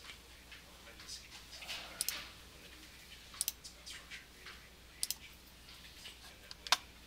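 Faint, sharp computer mouse clicks while working in the QGIS mapping software come as about four isolated clicks spaced a second or more apart over quiet room noise, with soft rustling between them.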